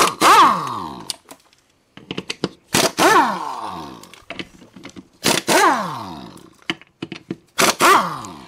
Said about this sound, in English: I'm going to use my impact wrench